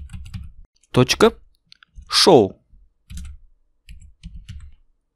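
Computer keyboard keys and a mouse click in short bursts of soft, close taps with gaps between them, while someone speaks briefly in between.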